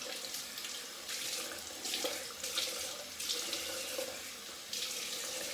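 Cold water runs steadily from a bathroom tap into a sink for a rinse after shaving, a continuous splashing hiss with small surges, close and alone.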